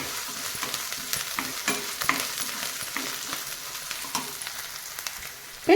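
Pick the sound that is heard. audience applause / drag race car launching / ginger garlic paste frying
ginger garlic paste frying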